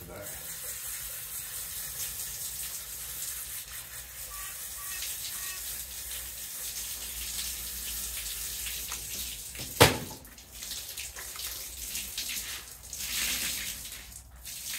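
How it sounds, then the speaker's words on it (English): Clear tap water runs steadily while a detergent-soaked car wash mitt is rinsed, a faint continuous flow with a sharp knock midway and a brief voice in the background. "Now that's just running clear water."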